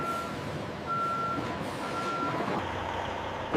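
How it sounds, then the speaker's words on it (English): A truck's reversing alarm at a peanut butter factory emits three evenly spaced high beeps over a steady low engine rumble, fairly close and clear. "Trucks arrive to transport peanut butter to markets far and wide."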